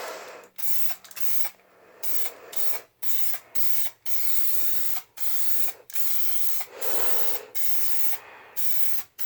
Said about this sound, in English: So I've just been painting this, getting a good coat on it.